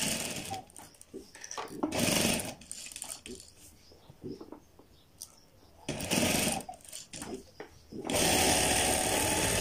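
A sewing machine stitches fabric for a child's kurta in several bursts of fast, rattling whirring, stopping and starting in between, near and loud, with faint handling noises during the pauses.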